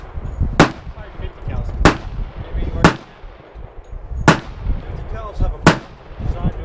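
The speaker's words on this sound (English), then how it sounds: "30 caliber rifles you need to be very careful with" Five sharp, loud rifle shots from a .30 caliber rifle at a shooting range, spaced about a second or more apart, each a sudden crack followed by a brief decay, with low murmuring between them.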